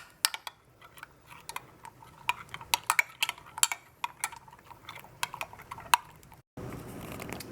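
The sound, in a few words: stirring homemade cat food mixture in a bowl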